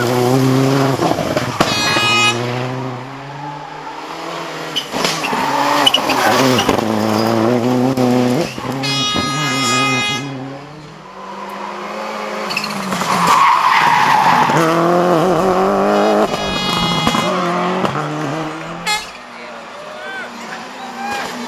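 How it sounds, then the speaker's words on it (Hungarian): Rally cars race on scenic mountain roads near Salgótarján during a round of the Michelin Budapest Rally, their engines loud and close as they rise and fall in pitch through repeated surges and skids. "A verseny maga, amely ma már a nemzetközi Michelin Budapest Rally egyik futama, a Salgótarján környéki, többségében festői, hegyi utakon zajlik"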